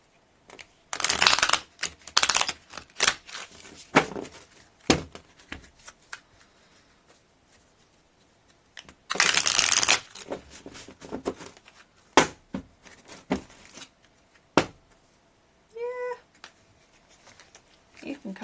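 Tarot cards being shuffled in several bursts of crisp riffling and flicking, close up and moderately loud, with quieter pauses between and a few single card snaps.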